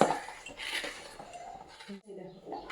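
Plastic egg container lid being pressed shut after the box is filled with washed eggs, a few close clicks and clinks with someone talking over them.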